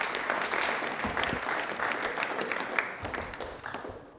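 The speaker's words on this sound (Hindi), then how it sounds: "एक बार तालियां प्लीज जोरदार हो जाएं" Sustained applause from an audience, steady and full for several seconds before gradually thinning out toward the end.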